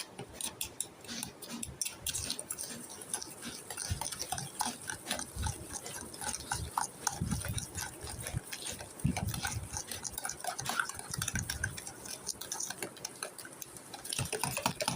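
Cake batter being stirred by hand in a bowl, a steady run of wet, clicking scrapes and sloshes repeating close up with no talking.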